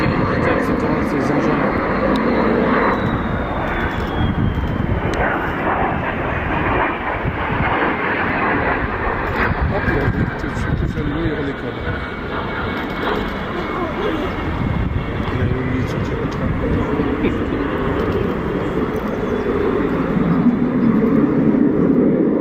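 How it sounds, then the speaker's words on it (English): A trainer jet engine roars steadily at close range throughout, a broad whining rush with a descending tone as it comes in to land with its landing gear up. "This trainer jet pilot almost landed without lowering the landing gear."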